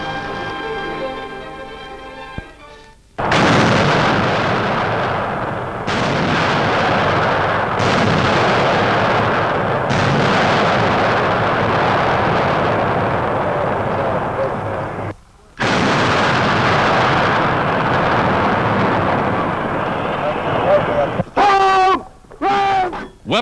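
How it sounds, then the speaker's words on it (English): Heavy 240-millimeter howitzers fire in an old newsreel, with deep, booming blasts that roll into long, rumbling echoes. Several big reports are separated by brief silences. "In the field, artillerymen test the powerful new 240-millimeter howitzers, some of the heaviest weapons in service."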